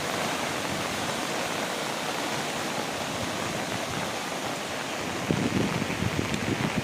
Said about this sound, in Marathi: ह्याला मग नदी म्हटलं तर नाही, पण एक झरा, एक पाण्याचा झरा असं म्हटलं जातं. खूप पाणी आलेलं आहे.